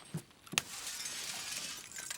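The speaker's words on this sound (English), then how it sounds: "Just breaking glass." Glass shatters in the video game Escape from Tarkov, giving a sharp breaking crack followed by a hissy tail of falling shards and a few faint clinks.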